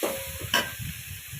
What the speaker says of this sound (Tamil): அதையும் நம்ம சின்ன சின்னதாக கட் பண்ணி அதில் போட்டுக்கலாம். 2 கிளறி விட்டுட்டு அப்படியே வச்சிடலாம்.